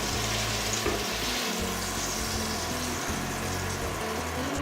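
Pork chops fry in a skillet with a loud, constant, close sizzle that continues unbroken and without voices.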